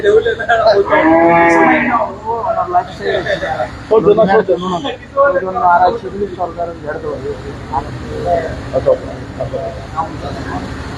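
A loud, close cow moo rings out early on a cattle farm, followed by people talking over a faint background hum.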